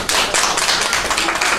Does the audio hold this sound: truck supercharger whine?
no